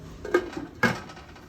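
A metal lid goes onto a cooking pot of palak paneer: two distinct clanks, a lighter tap followed by a sharper ringing clatter, close up with no talk.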